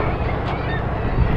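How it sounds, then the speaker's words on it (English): Dense colony of seabirds on the Farne Islands, a constant loud wash of overlapping calls and honking cries with wind buffeting throughout, no single call standing out. "The noise is phenomenal for all the birds at the moment."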